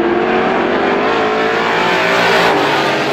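Outlaw race cars thunder around Star Speedway in a steady, loud engine drone as the pack runs down the back straightaway, with no pause in the noise.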